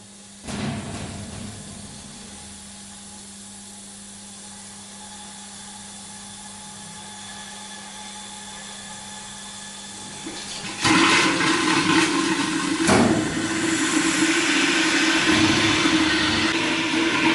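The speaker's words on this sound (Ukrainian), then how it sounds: "пропускає пару з парогенератора у стерилізаційну камеру" Steam from a steam generator rushes into an autoclave sterilization chamber, a steady low hiss and rumble that swells sharply louder near the end with bursts of turbulent noise.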